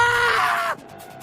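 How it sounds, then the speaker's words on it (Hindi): A loud, high scream sound effect from an animated horror story holds for under a second, then cuts off into a quieter, fluttering tail. "जब हम गोल गोल घूम रहे थे तो अचानक हमें ल्यूक की चीख सुनाई दी।"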